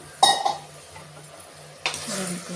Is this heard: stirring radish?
yes